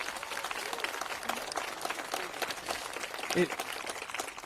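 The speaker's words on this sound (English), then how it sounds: "I want to give a huge shout out and a round of applause to Captain Cregan" Audience applause at a ribbon cutting ceremony, a moderate, somewhat distant patter of clapping mixed with crowd voices and talking throughout.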